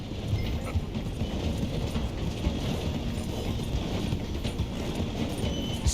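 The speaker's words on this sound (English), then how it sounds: "The train is slowing down to go through the station." A train in the Red Dead Redemption 2 video game rolls slowly through a station, a steady dense rumble of wheels and carriages with rhythmic clatter running continuously and fairly loud throughout.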